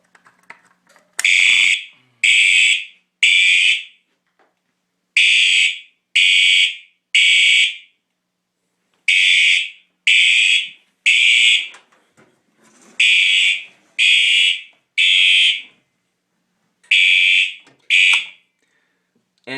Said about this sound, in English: I'm going to wait and set the alarm off, and then I'll open it up to silence it.